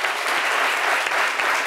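Audience applauding a guest on a midday radio or TV program, a steady dense wash of many hands clapping at full strength for the whole short stretch, with no voices over it.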